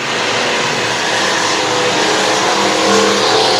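A modified race car's engine roars loud and continuous as it powers out of a corner at a charity fundraiser race night, the sustained drone building slightly toward the end.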